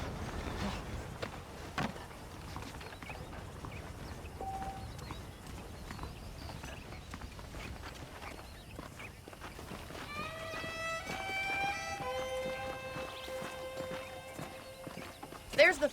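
Horses walk with steady clip-clop hoofbeats in the video game Red Dead Redemption, mid-distance beneath talking voices, with a brief whinny and a melodic tone rising later.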